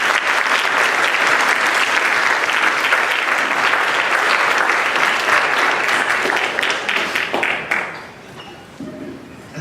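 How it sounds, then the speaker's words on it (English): A large audience of parents and families applauds at a high school senior awards ceremony, a loud, dense roar of clapping sustained for several seconds before tapering off near the end. "I want to give you all a nice round of applause."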